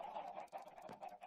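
Red chickens in modded Minecraft cluck in a quick run of short, closely spaced calls, near and fairly clear, with no talking over them.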